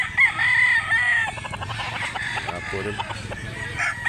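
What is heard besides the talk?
roosters crowing at a chicken market in Cebu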